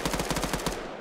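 Rapid automatic gunfire in an online multiplayer shooter match, a burst of about eight evenly spaced loud shots within a second, then a brief fading tail.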